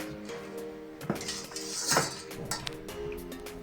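Bread dough being mixed in a bowl with a whisk, irregular clinks and scrapes of metal against the bowl, fairly close and moderately quiet.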